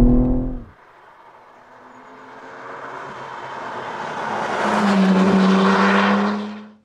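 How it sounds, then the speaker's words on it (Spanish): A 2024 BMW M3 Touring accelerating hard in Sport Plus mode, the engine note rising steadily and loudly after a brief idle, then swelling to a roaring peak before cutting off. "En cuanto acelero, salgo hacia adelante y rápidamente tengo que echar el ancla"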